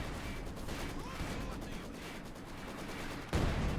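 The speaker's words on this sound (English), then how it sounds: "Field gun getting bombarded by Finndeed's field gun." Field gun artillery fire in Company of Heroes 2, a steady crackle of battle noise ending in one abrupt, loud close blast, with a voice talking over it.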